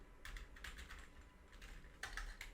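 Quiet, close computer keyboard typing as code is entered, two short clusters of soft key clicks with a brief pause between them.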